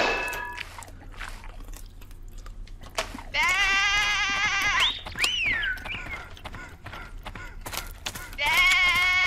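Loud sheep bleats from a video game, several drawn-out cries clustered mid-clip and again at the end, with short percussive game sounds between and no speech over them.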